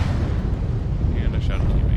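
Heavy mech weapon fire booms and rumbles in a MechWarrior battle, a dense roaring blast that carries on for a couple of seconds with no voices over it.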